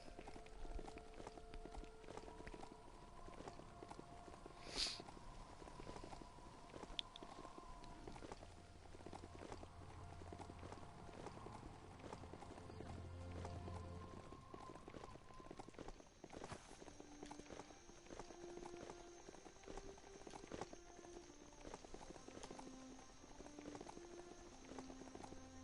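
Horse mount galloping in the video game Biomutant, a steady quiet clip-clop of hooves running continuously throughout, faint beneath game music and ambient sounds.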